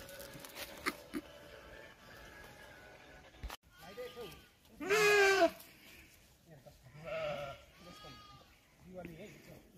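Sheep in a sheepfold bleat several times, close by, with one loud drawn-out cry in the middle and shorter calls around it over a quiet background.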